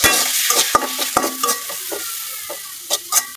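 Spice paste with a little water sizzling in a pan while a spoon scrapes and knocks repeatedly in an uneven stirring rhythm, close and fairly loud.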